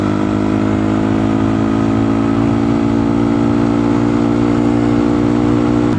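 A Honda Grom motorcycle fitted with a loud aftermarket exhaust runs up close, holding a steady, buzzing engine note without pause.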